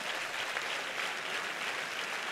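Sustained congregation applause during a church sermon, an even, continuous wash of many hands clapping from start to finish, fairly distant and without obvious voices on top.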